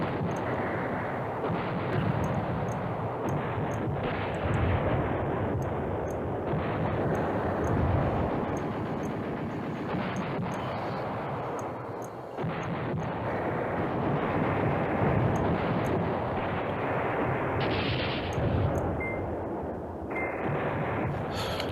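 Artillery rumbles continuously in Command Ops 2, with dense booming bursts layered into a roaring, wind-like wash. The barrage runs loud and sustained with brief dips, and there is no talk.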